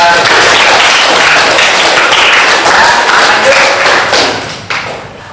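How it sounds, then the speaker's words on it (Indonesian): Classroom audience applause from students after group presentations, a dense steady clatter of many hands clapping close by that tapers off near the end. "Sekali lagi aplaus dulu buat."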